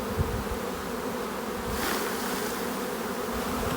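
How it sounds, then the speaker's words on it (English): A dense, steady drone of many honeybees buzzing together in a hive, close and continuous, with no voices. "this is now really full of bees"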